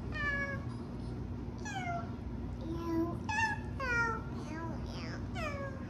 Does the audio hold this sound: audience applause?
no